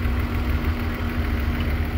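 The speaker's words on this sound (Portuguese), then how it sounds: "Olha o funcionamento desse motor." A 2002 BMW X5 engine with a rebuilt cylinder head idles smoothly nearby, a steady, even hum that holds alone without speech.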